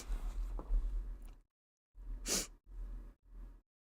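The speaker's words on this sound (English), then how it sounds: "Oh, I'm gonna sneeze." One faint person sneezes alone in a quiet room, with soft breathing and short exhales before and after the single sharp burst.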